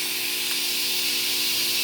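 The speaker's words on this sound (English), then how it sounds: "We're going to go ahead and check the steam. Nice strong steam." Steady, strong hiss of steam venting from the wand of a freshly serviced La Pavoni lever espresso machine, continuous and fairly loud with no talk over it.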